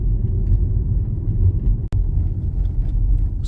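A car rolls along an unpaved dirt road on a long drive from Alaska to Texas. A steady, loud low rumble of tires and engine fills the cabin, broken by one sharp jolt.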